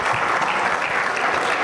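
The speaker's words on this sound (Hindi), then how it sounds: "एक बार जोरदार तालियां हो जाएं" An audience at an Indian motivational seminar breaks into loud, sustained applause, a dense wash of clapping that holds steady and gets no voices over it.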